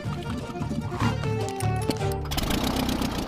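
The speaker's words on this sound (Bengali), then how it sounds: "এর আওয়াজটা লন মোভার ইঞ্জিনের মতো কেন?" A cheap small plane's engine runs with a buzzing, rattling drone like a lawn mower, steady and fairly loud, with brief voices over it.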